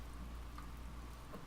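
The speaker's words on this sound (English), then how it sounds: "The rain. It's hurting me." Steady rain falling in a dense, even hiss with no breaks, faint and distant, with no voices.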